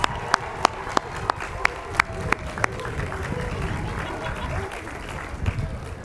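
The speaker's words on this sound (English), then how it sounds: "give yourselves a big round of applause" At a university commencement ceremony, graduates and a large audience applaud in a broad, steady roar of clapping with crowd murmur, sharp distinct claps standing out early before the sound settles into a sustained wash.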